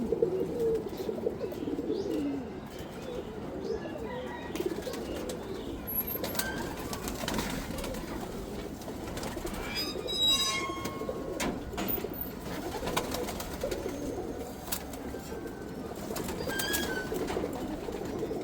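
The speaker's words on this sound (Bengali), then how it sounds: "কবুতরগুলা খাবার খাচ্ছে" Caged pigeons feeding, with soft cooing and low rustling murmur running steadily throughout, occasional faint chirps and flutters at moderate distance, no talking.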